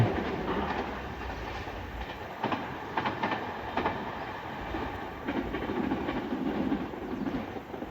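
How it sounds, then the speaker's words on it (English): A two-car intercity train in Japan rumbles steadily past at moderate distance, with rhythmic clacking of wheels over rail joints throughout. "And there's a 2-car intercity train."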